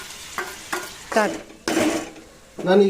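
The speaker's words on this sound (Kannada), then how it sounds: "ಈಗ ನಾನು ಈ ಈರುಳ್ಳಿ ಜೊತೆ ಟೊಮೊಟೊನ ಮಿಕ್ಸ್ ಮಾಡ್ಕೊಳ್ತಾ ಇದ್ದೀನಿ" Onions and tomatoes fry together in a pan, heard as several loud bursts of sizzling and stirring scrapes in quick succession, close up, with a brief spoken word near the start.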